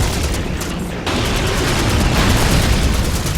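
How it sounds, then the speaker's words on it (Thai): A loud, continuous rumbling roar of an explosion in Call of Duty 2 with crackling debris, dipping briefly then surging again. "อ่าระเบิดไปแล้ว"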